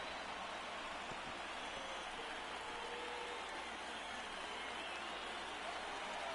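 Stadium crowd noise from MLB The Show 19 during a Dodgers vs Phillies game in the 8th inning, a steady, dense roar of a rallying baseball crowd with no distinct bursts, continuous throughout.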